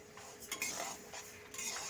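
Gobindobhog rice is stirred and tossed in a wok while it fries to a reddish colour, with close, quiet scraping and clinks of a metal spoon against the pan.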